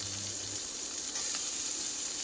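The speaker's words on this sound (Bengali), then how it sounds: "মাছগুলো কিন্তু ভাজা হয়ে গেছে নেবো পেঁয়াজ রসুন কাঁচা লঙ্কা সব একসাথে দিয়ে দিলাম" Onion, garlic and green chili frying in hot oil alongside fried fish, a steady close sizzle and hiss throughout with no talk.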